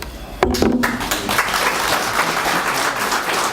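Audience applause breaks out at a public hearing on a town wind law, starting sharply after a brief voice and then holding as a steady, dense wash of clapping from a roomful of people.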